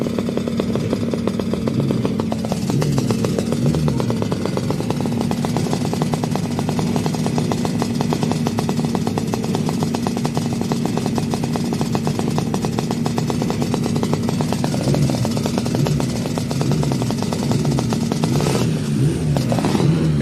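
A Suzuki three-cylinder sidecar engine at the Pre-TT Classic revs hard and continuously, a loud rasping two-stroke howl with clattering, rising and falling as the rider works the throttle.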